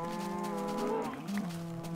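Cows mooing in Minecraft with the Tekkit mod pack, a close, loud, drawn-out low moo with a second lower moo overlapping toward the end.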